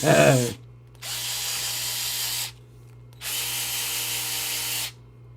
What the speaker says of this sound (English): but the DeWalt driver is the shit